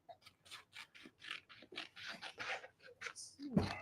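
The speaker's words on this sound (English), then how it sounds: "I think I'm gonna trim it up here too." Scissors or shears snip and rasp repeatedly at an artificial tree branch during a thrift-store home decor makeover, a close series of short scratchy cuts with a voice speaking briefly at the end.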